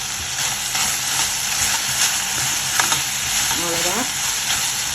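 Curry leaves and a little coriander leaf sizzle and crackle in hot oil in a pan for chutney, a steady close frying hiss with a few stirring scrapes, no talking.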